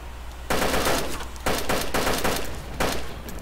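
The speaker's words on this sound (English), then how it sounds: "Who the fuck is that shooting?" Gunfire in a shooter video game: bursts of rapid automatic shots in several loud volleys separated by brief pauses, with no talking over them.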